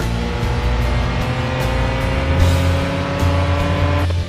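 A McLaren's engine roars and accelerates hard in the driving game Car Parking Multiplayer, loud and continuous with rising revs and brief gear-shift dips over about four seconds, with no talking.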